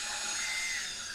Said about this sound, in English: battery operated drill, and I'm going to drill right through it